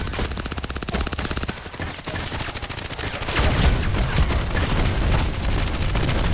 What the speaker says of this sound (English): Mortar got me. The mortar thing.